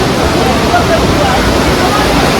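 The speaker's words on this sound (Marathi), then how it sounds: "यमुना नदी बघा यमुना नदी" Loud, steady roar of the Yamuna River rushing near Yamunotri fills the clip, a dense broadband wash with no breaks, close by.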